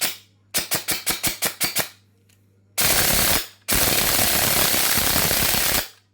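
LDT DDM4 PDW electric gel blaster firing about nine quick single shots in a steady rhythm, then two long continuous full-auto bursts, loud and close.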